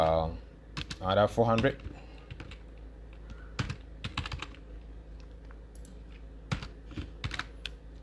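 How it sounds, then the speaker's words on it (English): Typing on a computer keyboard comes in short bursts of close, crisp key clicks, interspersed with someone speaking. "Let me type it here."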